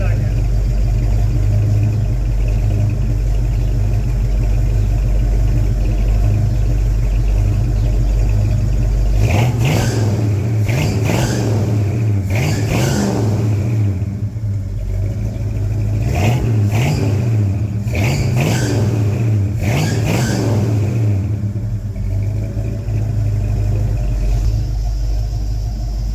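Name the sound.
1971 Ford Torino engine running, heard from the back end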